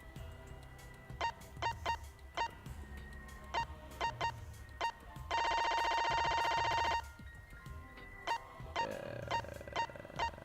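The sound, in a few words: cell phone ringing in a video game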